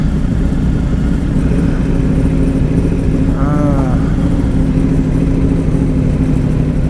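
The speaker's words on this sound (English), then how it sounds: "Traffic pretty horrendous as you'd expect." Steady road traffic around the Isle of Man TT grandstand, with cars and motorcycles droning and a medium engine revving briefly mid-clip amid constant outdoor rumble.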